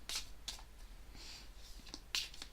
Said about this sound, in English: I'll shuffle again a little bit and then cut the deck and pull 9 cards.